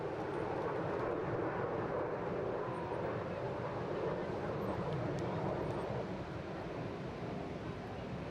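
Red Arrows display jets fly a rollbacks manoeuvre at an airshow on the English Riviera, heard as a continuous distant jet roar mixed with wind noise across the whole stretch.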